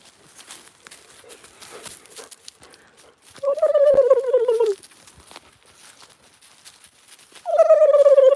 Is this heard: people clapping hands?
no